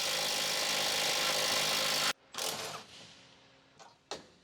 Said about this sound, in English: with large 24mm short socket and large electric impact wrench, remove the lower rear control arm retaining bolt